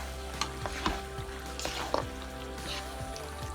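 Beef added to a pot of curry paste and stirred, a faint sizzle broken by soft clicks and scrapes of stirring over a low background hum.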